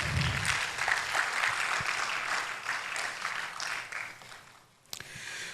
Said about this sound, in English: Please, a hand of applause for them.